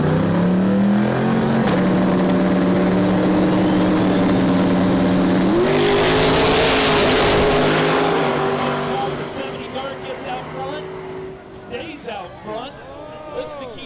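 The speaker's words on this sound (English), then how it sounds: "The Hemi in the left lane, LS in the right. That's a 70 Dart and a 92 Mustang as we are wall to wall here tonight." Two drag cars, a Hemi-powered 1970 Dodge Dart and an LS-swapped 1992 Ford Mustang, launch side by side at a night no-prep event, loud engines rising through gear changes then fading into distant crowd noise.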